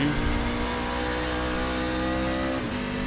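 A race truck engine in the iRacing game drones loudly and steadily at high pitch, with a brief dip in the rev near the end, no voices.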